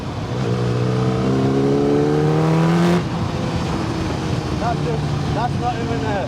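A kit car powered by a Yamaha R1 motorcycle engine accelerates hard with no roof or windscreen, a loud, rising, high-pitched engine whine climbing through revs, then easing off with lighter revving and wind noise.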